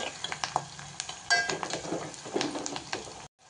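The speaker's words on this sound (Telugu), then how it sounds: "ఇప్పుడు 2 కరివేపాకు రెబ్బలు వేసేసుకుందాం. వేసి కొంచెంసేపు వేగనియాలి." Curry leaves crackling and sizzling in hot oil, with steady spitting bursts and a few faint clinks, close by, ending abruptly in silence.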